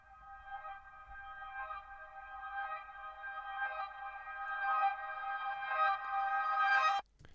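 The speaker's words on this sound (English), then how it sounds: "I just basically chopped up and reversed some arpeggio textures" A chopped, reversed and time-stretched arpeggio texture swells in gradually, a shimmering tonal pad growing louder before cutting off abruptly near the end.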